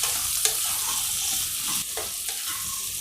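Okra fries in oil in a pan, a steady close sizzle broken by a few distinct scraping strokes of a spatula stirring the pieces, with no voices.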